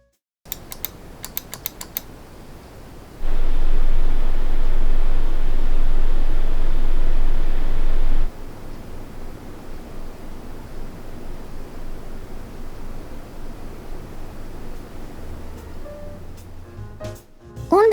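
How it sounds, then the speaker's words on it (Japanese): Graphics card fans in a custom-built Fractal Design North PC spin steadily, and a louder broadband whoosh lasting several seconds gives way to a softer, even hum. A few faint clicks are heard at the start and end. "ファンの回転数を 2000rpm から 1400rpm までがっつり落とせたよ。"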